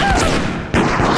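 Gunshots in the video game Deceit, loud and dense, a sustained burst that fades briefly and then resumes.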